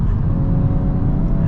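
Steady low road and tyre roar inside a moving Volkswagen Golf R MK8.5 facelift, a constant dense rumble with a faint engine hum and no talk over it.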